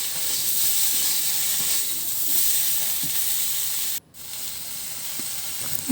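Spices frying with turmeric and chili powder in a pan, a soft continuous sizzle and hiss with faint stirring scrapes, broken by one brief dip in sound before the frying carries on.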